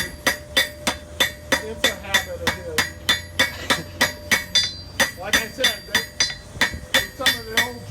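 A blacksmith hammers a fresh weld on the anvil to draw it out to a point, striking loud, evenly spaced ringing blows about twice a second, with faint metallic clinks between strikes.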